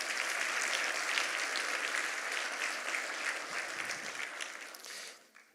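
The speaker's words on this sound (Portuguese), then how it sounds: "Dê uma salva de palmas ao Senhor." A church congregation gives a full, dense round of applause that holds steady, then thins and fades out toward the end, without speech.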